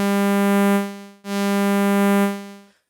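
Bright, buzzy sawtooth-wave synthesizer tone generated with Tone.js, two sustained low notes rich in harsh upper harmonics, the second fading out, loud and alone without any talking.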